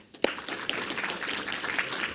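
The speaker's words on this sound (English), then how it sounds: "We need a big round of applause for Mateusz." Conference audience applauding a speaker taking the stage at a Scala programming event, a moderate, fairly distant patter of many hands with one sharp nearby clap near the start.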